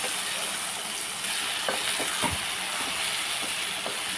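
Eggplant fries in a pan with a steady hissing sizzle while a spoon stirs, giving several soft scraping knocks in the middle and end; close and continuous, with no talking.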